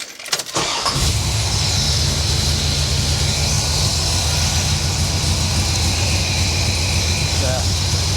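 A 1978 Corvette with a freshly rebuilt engine cranks briefly and catches, then runs as a loud, steady, close engine roar that holds at raised revs for the rest of the clip.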